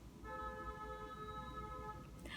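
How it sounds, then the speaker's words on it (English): A car horn in New York City traffic gives one long, steady tonal blast of nearly two seconds, heard through a window over low street rumble, then a brief sharper noise. "apologies if you guys heard more horns than my voice"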